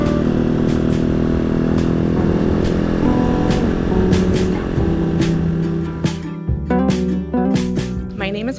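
Halcyon 250 motorcycle ridden along a road past a Vermont maple sugar farm, its engine note droning steadily and loud throughout, with a few louder clatters and shifts near the end.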